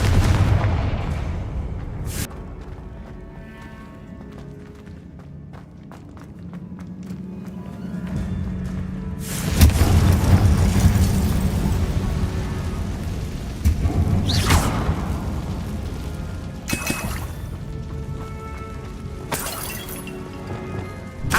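Confringo fire spells exploding in Hogwarts Legacy gameplay, a series of sharp booming blasts with shattering debris that punch through quieter ambient game sound at irregular intervals.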